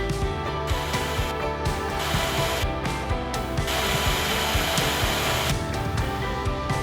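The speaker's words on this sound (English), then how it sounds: "Next, fix the gate installation base with bolts." Bolts are tightened on the installation base of a TiSO Gate-GS Slim security gate, with steady mechanical ratcheting and whirring from a close power tool running almost continuously with brief pauses.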